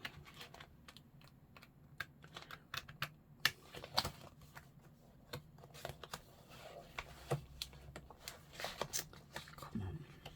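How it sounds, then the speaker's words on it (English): Sheets of paper and card being shuffled and handled while assembling a botanical lapbook journal with pockets, giving a steady run of close, crisp rustles and taps. "I feel like all I'm doing is shuffling papers."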